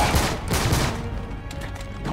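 Explosions and gunfire in the video game Uncharted 3, a dense burst of blasts and rattling shots up close that fades into a rumbling tail.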